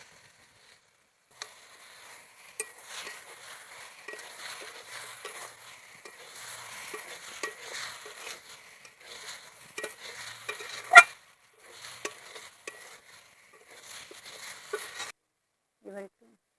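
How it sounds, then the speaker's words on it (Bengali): Young jackfruit stir-fried with spices in oily pan for a prawn dish gives a faint, steady sizzle with intermittent scraping and clatter of a spatula, one sharp knock near the end and a brief pause. "এটা ভালো করে কষাতে থাকবো।"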